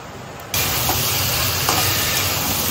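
Potatoes and pointed gourd sautéing in a hot pan, a loud close sizzle that bursts in suddenly after a quiet start and then holds steady with faint stirring touches.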